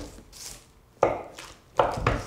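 A knife slicing through scone dough on a board: three firm chopping thuds, roughly evenly spaced, close and clear with short soft scrapes between them and no talking.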